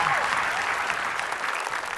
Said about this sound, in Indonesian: Tepuk tangan dong buat bintang tamu kita